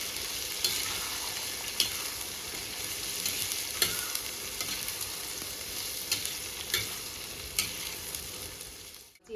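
Whole spices, including whole coriander, crackle and sizzle in a hot pan for Punjabi kadhi, with a spatula scraping and tapping every second or two in an irregular rhythm.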